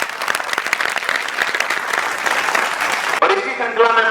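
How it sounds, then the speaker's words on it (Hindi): An audience gives a burst of loud applause at a 10th-class results ceremony at a science academy in Gangapur City, lasting about three seconds before a voice takes over. "एक बार जोरदार तालियां।"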